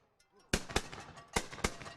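Guns fire and bangs ring out at an orchard wassail: a few loud, sharp reports in quick succession, close and punchy, with quieter noises between them.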